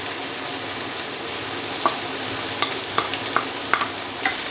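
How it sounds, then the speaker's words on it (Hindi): Tomatoes and spices frying in a pan for egg bhurji, a continuous close sizzle broken by light rhythmic scrapes and taps as the mixture is stirred. "और इनको मज़ीद भूनेंगे जब तक हमारे टमाटर ना गल जाए।"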